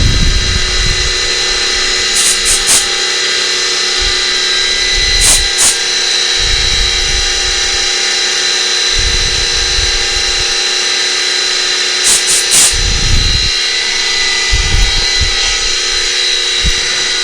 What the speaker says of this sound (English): the only thing you're going to get is the noise of the spindle running